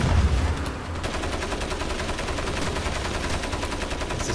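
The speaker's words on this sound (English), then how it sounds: "Oh my god, a grenade!" Rapid, steady gunfire runs through a Crysis firefight, with a heavier burst at the start that may be the grenade going off, and the shots keep a dense, continuous rhythm for the whole stretch.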